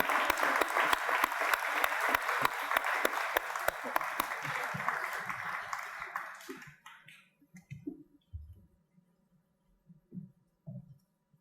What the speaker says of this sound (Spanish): Recibámosla con un fuerte aplauso de bienvenida.